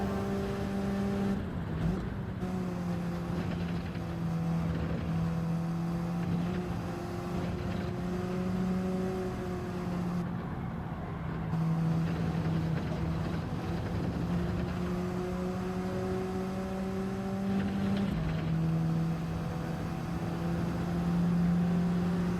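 Race car engines in the Gran Turismo 7 racing game, a continuous loud droning whine that holds steady with small pitch shifts as the cars run side by side, all engine with no talk.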